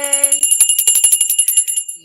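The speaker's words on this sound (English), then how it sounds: "that bell sounds good to me" A bell rings in a rapid, steady trill of bright metallic strikes for about two seconds, loud and close, then stops.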